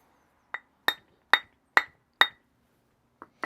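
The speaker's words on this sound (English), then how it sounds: "I've just spotted a flake that could do with removing with an antler hammer" Sharp strikes of an antler hammer knapping flakes from a Neolithic-style flint axehead: seven crisp, glassy clicks, five close together at a steady rhythm, then a pause and two softer taps, close and clear with no talk.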